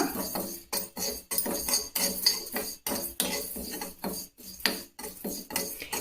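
Fenugreek and cumin seeds dry roasted in a pan without oil, heard as repeated scraping and clinking of a spoon against the pan in irregular bursts, close and fairly loud with no talking.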